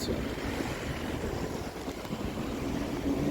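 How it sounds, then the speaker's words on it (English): Strong wind buffets the microphone in a constant roaring rush, broad and steady with low rumbling gusts and no voices. "It's very windy"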